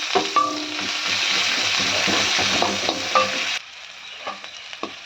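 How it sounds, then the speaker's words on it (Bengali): Chopped onion dropped into oil with garlic fried until reddish, for a Bengali tempering, sets off a loud, steady sizzle stirred with a few clinks. The frying fades to a quieter crackle near the end. "রসুনটা যখন একটু লালচে হয়ে যাবে তখন আমি দিয়ে দেবো এই পেঁয়াজ কুচিটা"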